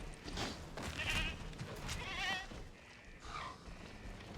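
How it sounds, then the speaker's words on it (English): A goat in the video game Jurassic World Evolution 3, hunted by dinosaurs, gives several plaintive wavering bleats amid game ambience and rustling noise, moderately close and fairly faint. "What a pitiful noise the goat made."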